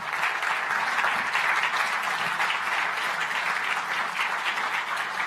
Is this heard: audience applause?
yes